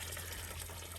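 Water gushes steadily from the tank of an RV parked off-grid, a close, continuous rushing flow with no pauses.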